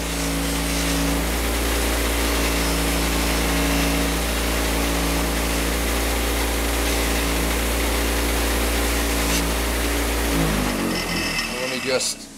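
A motor-driven polishing wheel whirs steadily and loudly, with a continuous hum and grinding hiss as a Kawasaki motorcycle metal part is pressed against it, winding down at the end.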